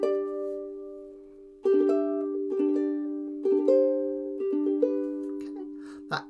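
Ukulele picking an opening melody, soft plucked notes over a ringing drone in a lilting rhythm, played alone at moderate distance.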